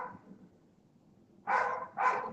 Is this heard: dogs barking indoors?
yes